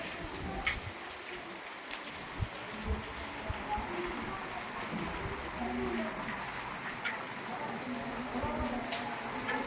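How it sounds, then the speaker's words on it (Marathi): Heavy monsoon rain pours down in Udgir in a steady, dense roar with scattered drops spattering nearby, continuous throughout, with faint voices underneath. "बघा मुसळधार पाऊस पडत आहे बघा इथलं उदगीर येथे"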